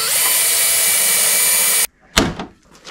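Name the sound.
power drill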